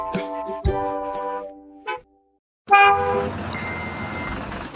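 Sung nursery-rhyme horn beeps, a bus horn imitated in a children's song: bright tonal toots in a rhythmic beep-beep pattern, one burst after a short silence, loud and clear over musical backing.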